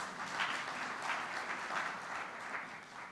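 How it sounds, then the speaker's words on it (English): Steady applause from an audience for the President at a Kenya Association of Manufacturers event, a dense, even wash of clapping that holds throughout at moderate level. "Please clap for the President for being with us."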